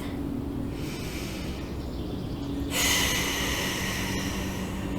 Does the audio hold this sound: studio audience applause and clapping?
no